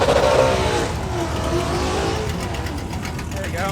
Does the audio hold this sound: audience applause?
no